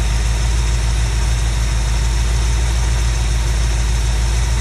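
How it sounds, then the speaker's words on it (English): A 1972 Buick Skylark engine idles just after a tune-up with timing adjusted, a loud steady low rumble with an even pulsing rhythm, close up and alone. "The engine seems much happier."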